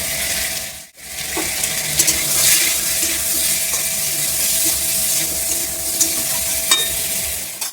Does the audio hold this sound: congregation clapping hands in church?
no